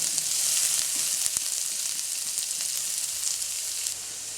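Onion frying with lightly browned garlic in a pan gives a close, steady sizzle and hiss with faint stirring clicks, dropping slightly quieter near the end; no voices.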